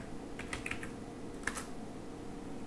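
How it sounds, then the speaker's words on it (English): Typing on a computer keyboard, a short run of light, quick key clicks in small clusters with a brief pause between, close and fairly quiet, no talk. "start typing the command"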